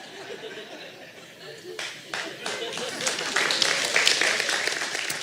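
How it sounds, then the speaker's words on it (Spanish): People in a church congregation applaud during a sermon: a few scattered claps grow into fuller clapping that builds in loudness, with laughter and voices mixed in. "Y el de Baladeces empezó a aplaudir."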